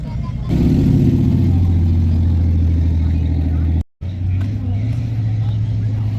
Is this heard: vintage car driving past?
yes